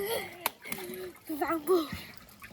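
A child splashes water while dunking their head under, with brief sloshing bursts among an adult's spoken instructions.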